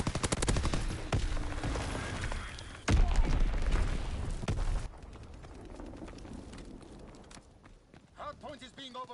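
Dense rattling bursts of aircraft strafing gunfire in a WW2 shooter, loud and rapid for the first few seconds with a heavy spike near three seconds, then thinning into scattered distant shots and battlefield noise, with voice callouts toward the end.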